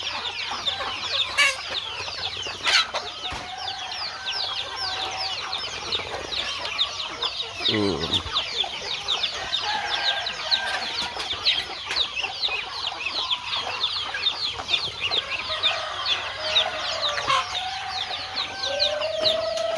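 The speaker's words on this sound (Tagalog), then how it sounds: "Sari-saring pato, sari-saring manok, sari-saring gansa." A busy flock of chickens clucks and chatters continuously nearby, with scattered squawks and calls from ducks and geese mixed in, lively and dense.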